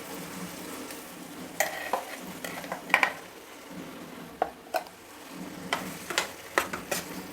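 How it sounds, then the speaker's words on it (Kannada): Ground masala being stirred into cooked field beans (avarekalu) in a pot for a traditional saaru, with scattered spoon scrapes and clinks against the pot over a low steady sizzle, no talking. "ಈಗ ರುಬ್ಕೊಂಡಿರೋ ಮಸಾಲೆನ ಇದರಲ್ಲಿ ಸೇರಿಸೋಣ."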